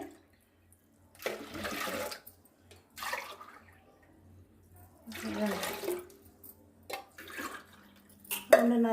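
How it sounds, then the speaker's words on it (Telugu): A glass of water poured into a pot of pepper rasam, a few separate short splashing pours with quiet gaps between them, near and fairly soft. "గ్లాసు నీళ్ళు వేసుకున్నాను"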